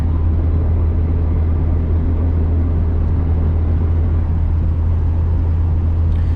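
A car cruising along a road toward town on a trip into town: a continuous, steady low road and engine rumble with no talking and no breaks.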